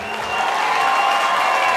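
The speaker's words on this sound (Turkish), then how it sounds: "Lütfen alkışları göreyim." A village crowd at an outdoor gathering claps together on request, a steady wash of applause building quickly and holding at a loud, close level.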